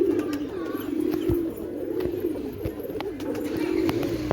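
A pigeon perched on a building coos in a low, steady warble with a few soft clicks, fairly close, and no voices alongside.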